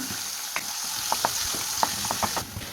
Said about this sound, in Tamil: இஞ்சி பூண்டு பேஸ்ட்டில் பச்சை வாசனை போகிற அளவுக்கு நல்லா வதக்கி விட்டுக்கலாம்